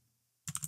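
Quick keystrokes clatter on a computer keyboard after a brief quiet moment, a short run of close, crisp taps in uneven rhythm.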